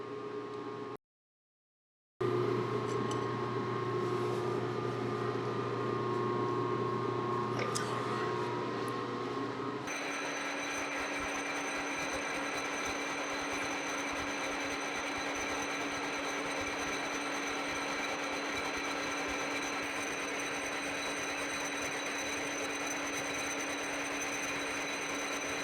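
A drilling and boring machine cuts holes through a capstan cap for the Tally Ho project, a steady mechanical whine and hum running throughout, with a brief pause early on before the continuous machining noise resumes.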